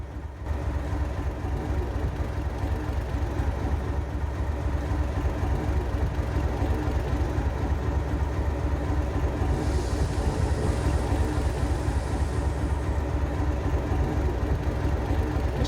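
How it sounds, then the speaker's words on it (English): Modded diesel locomotive engine sound pack idling in the train game Trainz, a loud, steady low rumble with a rhythmic throb that holds throughout, alone without any talk. "I can hear that the engine sounds have changed from the default one."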